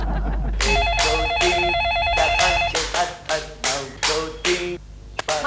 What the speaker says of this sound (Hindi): मनु फोन उठाओ